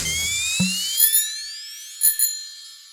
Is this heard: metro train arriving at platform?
no